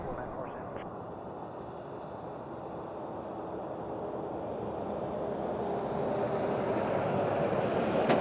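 An airliner comes in to land in a crosswind at Toronto Pearson airport (YYZ) on a cold winter day. Its engines make a continuous broad roar that slowly grows louder as it approaches, heard from a distance.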